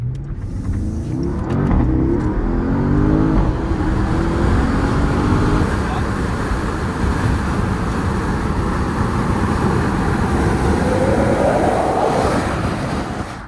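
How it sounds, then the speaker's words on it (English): A 700-horsepower Porsche coupe at speed gives a loud, steady roar of engine and road noise, with a rising whine and a futuristic, spaceship-like tone that shifts as it drives. "When you're driving at speed and you close this, sounds like a spaceship."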